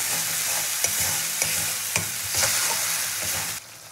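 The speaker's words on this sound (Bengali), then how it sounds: "তো এবার নেড়ে চেড়ে মশলাটা খুব ভালো করে কষিয়ে নেবো।" Spice masala, including Kashmiri chilli powder and coriander powder, sizzles in a pan and is stirred steadily, with a spoon scraping and tapping several times against the pan over a continuous fry.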